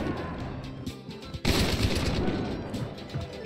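Gunfire in the game Hunt: Showdown, several rough muffled shots and bursts with a heavier blast midway, dense and close over a steady game background.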